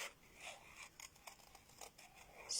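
Scissors fussy-cutting a paper butterfly, with soft rhythmic snips and rasping paper rubs close by, quiet and steady with no talking.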